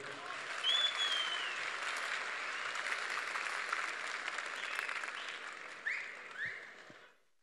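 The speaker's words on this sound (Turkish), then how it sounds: "Sizlerden yüksek alkışlar arz ediyorum." A crowd at an Ankara candidate introduction rally in Turkey applauds for several seconds, a thick steady clapping with a few cheers and whistles over it, then cuts off sharply into near silence.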